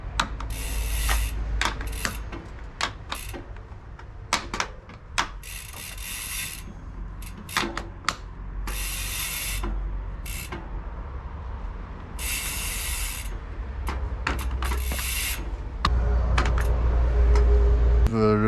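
Shimano SH56 clipless cleats snap into and out of bike pedals while a rider leans against a wall, a long series of sharp, close mechanical clicks and clacks at irregular intervals over a low background rumble.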